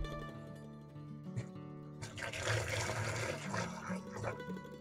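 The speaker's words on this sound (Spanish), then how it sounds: "lo siguiente que vamos a hacer es agregarle el agua caliente y cubrir toda nuestra mezcla" Hot water poured from a container onto a mixture of lime and wood ash, a splashing, gushing pour that builds loudly midway and keeps running steadily to the end.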